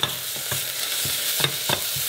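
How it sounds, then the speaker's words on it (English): Shallots and garlic sauté in a pan, a soft continuous sizzle with several quick scraping stirs close by, and no voices. "Shallots in. And garlic. We're going to saute this for about"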